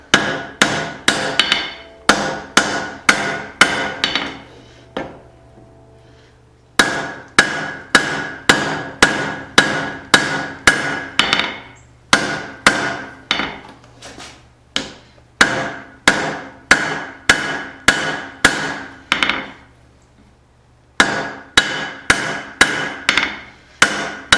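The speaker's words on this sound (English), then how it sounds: "Alright, so I'm just forging out my cross peen here." A hammer pounds a small cross peen hammer head during forging, ringing out in loud, steady series of anvil strikes with brief pauses between heats.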